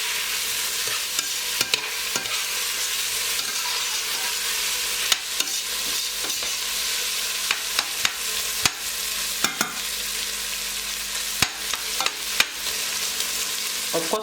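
Beef cooking in a big sufuria pot is stirred now and then, with steady soft sizzling and scattered scraping clicks of the spoon against the metal running alone throughout.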